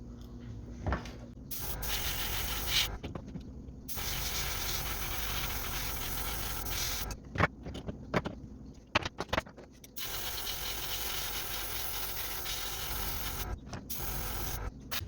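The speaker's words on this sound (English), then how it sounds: "I'm going to spray a little bit more there." Long bursts of hissing spray from an aerosol spray-paint can painting a bluegill topwater swimbait, broken by short pauses, steady and fairly close.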